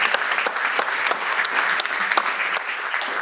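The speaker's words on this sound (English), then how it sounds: "Quick round of applause for Ian." A summit audience gives a quick round of applause, many hands clapping in a steady, close burst with a few sharper individual claps standing out.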